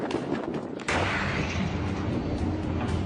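A meteor about twenty meters across explodes in the air at 5,000 meters altitude, a sudden deep boom breaking in after a dull rumble and rolling on as a sustained roar.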